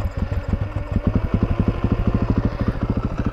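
2014 KTM 450 EXC motorcycle with its stock exhaust, idling close by: a loud, rapid, even thumping beat, with no speech.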